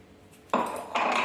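A spoon scrapes and clinks against a pan while sugar is tossed into spicy poha chivda, two short metallic stirring strokes close by.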